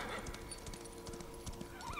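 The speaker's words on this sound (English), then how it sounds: "Oh, the horse." A horse in the Darksiders 3 video game trots with steady, close clip-clop hoofbeats and lets out a short whinny near the end, all heard without speech.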